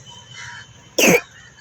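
A single sharp, loud cough from a boy, close to the microphone, bursting out of near-silence and lasting a fraction of a second before quiet returns.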